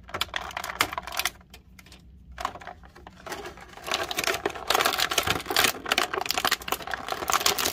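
Plastic packaging of an action figure being cut open, heard as a run of close, rapid clicking snips and crinkles that briefly pause and then pick up again, dense and sharp with no voices over them.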